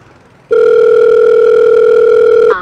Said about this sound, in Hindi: तमन्ना का फोन था ये